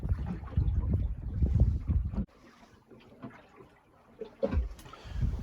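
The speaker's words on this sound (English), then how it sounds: "as we got some wind, we can do some sailing" Wind buffets the microphone on a sailboat under way, in loud low gusts that cut out suddenly, leaving a quiet lull with faint creaks and light water sounds before the gusting returns.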